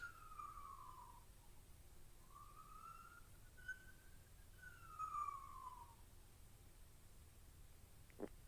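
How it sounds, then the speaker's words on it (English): A fake ambulance siren plays faintly over a hissy background, its tone sliding up and down in slow, even sweeps and then cutting off with a brief click. "The fake ambulance."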